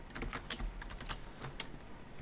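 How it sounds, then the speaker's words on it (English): Rapid typing on a computer keyboard while coding a game engine, with irregular clusters of sharp clicks close up and no voices. "I'm going to put keys"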